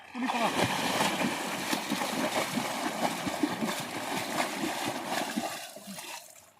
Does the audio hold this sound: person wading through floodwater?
yes